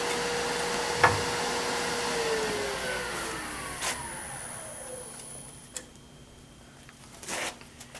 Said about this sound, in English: now I'm going to part it off